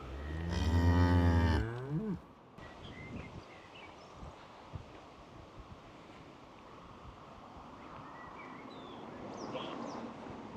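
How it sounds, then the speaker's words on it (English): A cow on a farm walk at a Skipsea caravan park gives one loud, close, drawn-out moo at the start, then the scene settles into steady wind and outdoor rumble with faint distant sounds. "See the cows in there."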